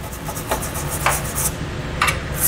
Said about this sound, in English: And then we'll take a bristled brush to get out any dirt, debris, corrosion, or anything else in there